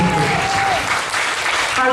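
A church congregation claps loudly and continuously in a dense wash of applause, with voices calling out and cheering over the clapping.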